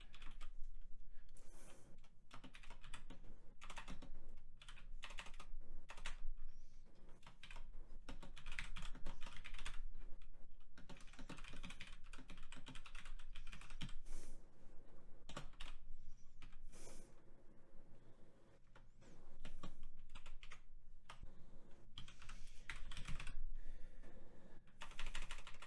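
Soft, fast clicking of keys on a computer keyboard while coding in JavaScript, continuing in uneven bursts and short pauses for a long stretch at a faint, close level.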